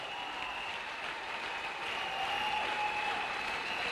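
A church congregation applauds and cheers for the Lord in a sustained, steady wave of clapping that fills the whole stretch, swelling slightly toward the end, with no voices standing out.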